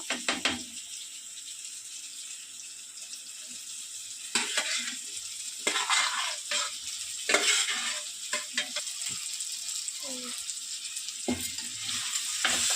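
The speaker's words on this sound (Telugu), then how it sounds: "అల్లం వెల్లుల్లి పేస్ట్ వేసేసిన తర్వాత రొయ్యలు అయితే వేస్తా ఉన్నాను" Prawns frying in a pan with ginger garlic paste, a continuous hiss of sizzling oil broken by scraping stirs and clatters of a spoon against the pan, no talk.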